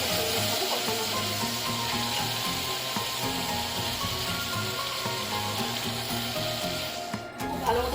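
Spice paste splashed with a little water sizzles and bubbles steadily in a pan during bhuna frying, a constant close hiss with faint clinks and scraping.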